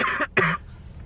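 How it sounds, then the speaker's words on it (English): Two quick, deliberate coughs in a row, close and fairly loud, forced rather than from illness, followed by a short quiet tail. "You're fake coughing."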